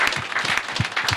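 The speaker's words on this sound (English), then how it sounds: "Make we na clap for them." Audience applause at a Nigerian family call-in radio programme, a short loud burst of clapping with a few low thumps, no talk over it.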